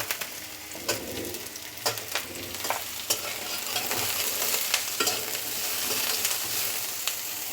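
Cut drumstick pieces fry in oil in a kadai while a spoon stirs them, giving a continuous sizzle broken by repeated scraping, clattering stirs at an uneven rhythm, close up and without speech.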